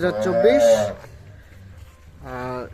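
Cows and calves moo close by in a village cattle setting in Teghora, Birol, Dinajpur. Two loud, drawn-out moos come at the start and again near the end, with a quiet pause between them.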